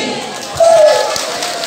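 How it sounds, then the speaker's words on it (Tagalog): A large outdoor crowd at a community program event shouts together on cue, a loud brief roar of voices rising sharply after a quieter lead-in. "palakpakan at hiyawan sa last"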